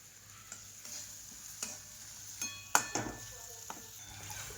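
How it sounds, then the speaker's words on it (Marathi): Gram flour and masala frying in oil in a home kitchen pan, a steady sizzle with scattered stirring scrapes and a few clinks of a spoon against the pan, close and moderately loud. "बेसन पीठ तळण्यासाठी थोडंसं तेल टाकलं बघा, म्हणजे बेसन पीठ चांगलं तळून निघेल."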